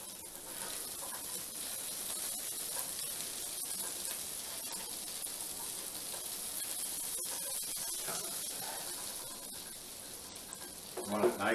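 Butter sizzling on a hot griddle, a steady soft crackling hiss throughout, with a few clattering clicks at the end.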